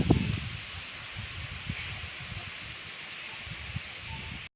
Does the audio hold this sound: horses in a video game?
no